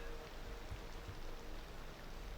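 Rain falls in the Cities Skylines II video game as a soft, steady hiss with a low rumble beneath, faint and continuous with no voices.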